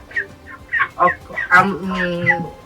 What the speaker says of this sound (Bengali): আমাদেরকে এসডিএফসি ব্যাংক হাঁস পালনের একটা ফার্ম খুলে দিয়েছে।